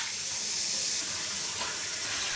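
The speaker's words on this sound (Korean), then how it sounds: "3번 정도 물을 갈아가며 흔들어 씻어주세요" Salted napa cabbage being rinsed and swished by hand in a basin of water, a steady close splashing and sloshing wash that runs the whole time without talk.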